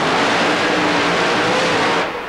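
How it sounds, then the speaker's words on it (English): Supercharged Ford-powered Thunderbird super modified mud racing car, around 2,000 horsepower, making a run at Tampa Stadium: a loud, continuous engine roar held steady, then easing off at the end. "here is the supercharged Ford-powered Thunderbird of Michigan's Mark Watros"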